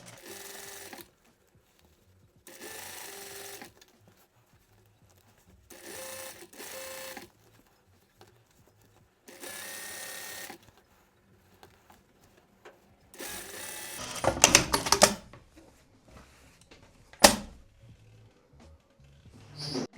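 Sewing machine stitching down a stretched elastic waistband at a quarter inch, heard in several separate bursts of steady mechanical whirring with quiet pauses between, followed by a louder stretch of handling and rustling noise.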